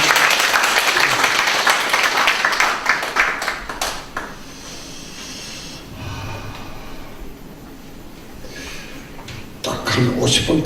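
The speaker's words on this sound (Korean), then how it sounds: "한 번 더 박수합니다." Audience applause in a church healing seminar hall, loud and dense for the first few seconds, then fading to scattered claps and murmurs before a burst of clapping returns at the end.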